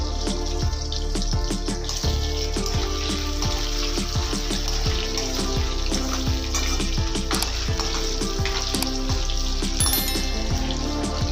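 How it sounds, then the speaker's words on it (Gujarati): Potatoes fry slowly in a pan over low heat for a Gujarati palak shaak, giving a steady, even sizzle with small crackles and pops throughout. "એને એકદમ ધીમા તાપે ચડવા દેવાના છે અંદર, એટલે અંદર સુધી આપણા બટાકા શેકાઈ જાય"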